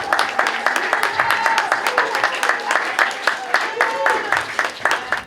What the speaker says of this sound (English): can we give them a massive round of applause?